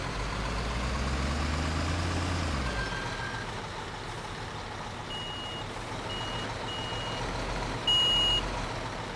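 A truck in Construction Simulator 2015 backs up to hitch a trailer, its engine rumbling low and steady while high reversing beeps chirp at regular intervals.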